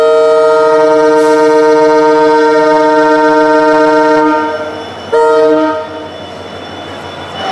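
A Palakkad to Nilambur passenger train departs Palakkad Junction with a loud, sustained horn blast for several seconds, which drops away and then returns briefly as a shorter, quieter note over the rumble of the moving train.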